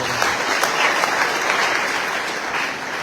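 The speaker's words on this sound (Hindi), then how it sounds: "इनकी जोरदार ताली बजा सकते" Sustained audience applause at a Bihar education minister's public event, a dense, steady wash of clapping throughout that tapers slightly at the end.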